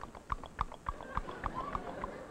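Horse hooves clip-clop in a steady, even rhythm, about seven hollow knocks close up, as a comedy sound effect on a 1949 live television revue, with faint background noise between the beats.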